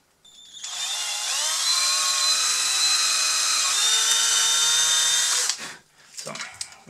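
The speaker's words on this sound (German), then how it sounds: "Ich bohre jetzt einfach da seitlich rein." A power drill whines at high speed for several seconds as it bores sideways into an RC model truck part, its pitch dipping slightly under load, then stops abruptly.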